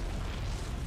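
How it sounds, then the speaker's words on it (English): Explosions in the video game StarCraft 2 make a dense, continuous rumbling boom that fills the short moment with no pause. "Explosions."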